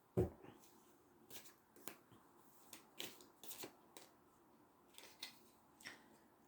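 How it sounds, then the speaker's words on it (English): Tarot cards are handled and flipped over, giving soft, faint papery snaps and slaps at irregular intervals against a quiet room. "Got some of the cards turned over now."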